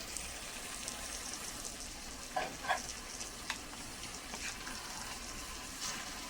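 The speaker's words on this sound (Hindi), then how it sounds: "अब हम इस सब स्पाइसेस को अच्छी तरह से मिक्स करते हैं।" Spices and okra sizzling and frying in a pan, with a few soft stirring scrapes and clinks of a utensil against the pan, faint and steady with no talking.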